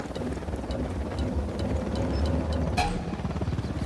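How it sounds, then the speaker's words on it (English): A helicopter in the video game Ghost Recon Wildlands makes a continuous low rotor thrum, steady and fairly close, with brief clanks from gameplay mixed in. "Chopper inbound."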